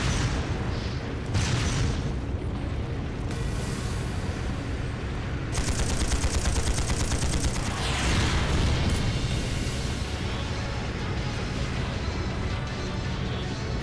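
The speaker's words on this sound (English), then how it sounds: "That sounds like a training ground under fire." Battle at a fortress military training ground in the video game Trails of Cold Steel, with a continuous roar of gunfire and heavy explosions, booms and crashes piling over one another throughout, loud and dense.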